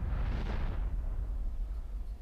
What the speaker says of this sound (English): isso é uma bomba atômica